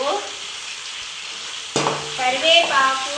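Curry leaves, garlic cloves and onions dropped into hot oil for tempering poha, a sudden loud burst of sizzling that settles into steady frying hiss with light stirring.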